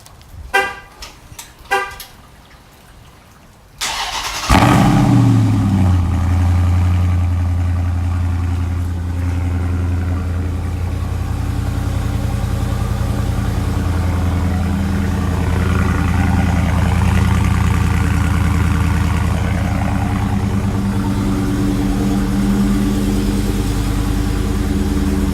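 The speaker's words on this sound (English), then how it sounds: "So let's start by doing a cold start." A 2019 Dodge Charger Scat Pack starts cold after a few short warning chimes. Its engine catches with a loud, deep roar, then settles into a steady, rumbling idle that fills the rest of the time.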